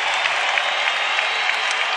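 Basketball arena crowd in a Warriors versus Spurs game applauding and cheering as Spurs coach Gregg Popovich is ejected, a dense, sustained wash of clapping and crowd noise filling the space.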